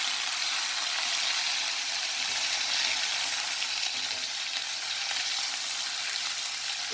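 Ginger garlic paste sizzles steadily in hot oil as it fries for a desi-style chicken curry. The crackle is bright, close and continuous, with no voices.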